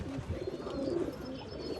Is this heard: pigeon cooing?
yes